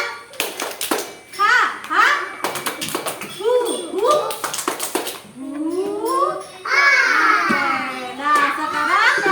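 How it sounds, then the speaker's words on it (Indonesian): Schoolchildren in a classroom perform a rhythmic 'tepuk semangat' clapping chant, with sharp bursts of group claps in a set pattern alternating with chanted children's voices, loud and close. "Oke, tepuk semangat."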